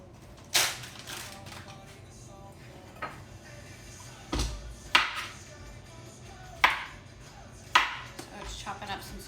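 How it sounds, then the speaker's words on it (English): Knife chopping zucchini into chunks on a cutting board during meal prep away from home, a handful of sharp, spaced knocks against soft background kitchen noise. "Chopping up some zucchini."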